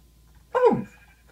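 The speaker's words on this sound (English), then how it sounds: "I'm sorry, Mr. Sheep" A single short bleat from a sheep in Minecraft, brief and falling in pitch, standing alone against near silence.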